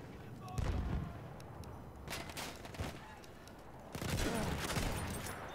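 Grenade blast and gunfire in Battlefield 1, with a heavy boom, a few scattered shots and a second burst of explosive noise, loud and close against ongoing battle din.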